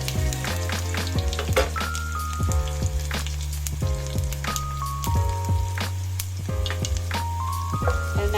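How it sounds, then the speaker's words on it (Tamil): Crushed garlic frying with popped mustard seeds makes a steady sizzle with scattered crackles and sharp pops. A continuous tonal musical line runs underneath throughout. "இப்போ பொரிஞ்ச உடனே இடிச்சு வச்ச பூண்டு சேர்த்துக்கலாம்."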